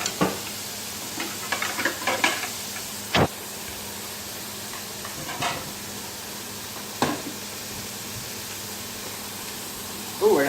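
Potatoes for fries bubble in hot oil with a steady sizzling hiss, broken by occasional sharp clanks and scrapes from utensils, and a voice briefly speaks in the kitchen.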